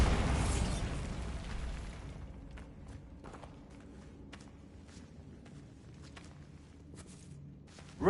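A Bombarda blasting spell exploding in Hogwarts Legacy, a loud rumbling blast for about two seconds that fades into quieter debris ticks and faint footsteps, no talk.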